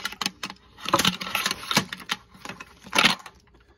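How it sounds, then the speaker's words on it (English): The power cord of a Lasko box fan being unwrapped, close plastic clattering and rattling in irregular bursts with a couple of louder knocks near the middle and end. "we're gonna unwrap the cord"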